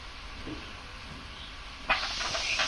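Onion-garlic paste with turmeric and chili powder hits hot oil in a wok and sizzles in a sudden loud hiss partway through, after a quieter hissing background.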